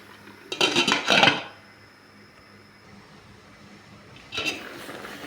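A metal lid set back onto a cooking pot of string beans, pumpkin flowers and beef pata in coconut milk, two quick clattering clinks close by, then quiet, then another brief metallic rattle.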